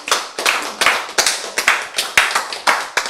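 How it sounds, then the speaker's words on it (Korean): An audience claps in rhythmic unison during a Korean Bible lecture, with about eight sharp, loud bursts of applause evenly spaced in a steady beat, close and clear with no talking. "이거를 박수를 보내야 돼."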